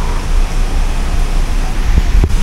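Loud, rough wind buffets the microphone in continuous gusts, a close rumbling roar with a couple of sharper thumps near the end.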